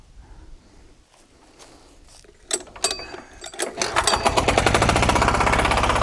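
A Motor Sich MB6D diesel walk-behind tractor pulls away. Scattered clanks give way to a loud, steady, fast-pulsing diesel chug that builds and holds near by.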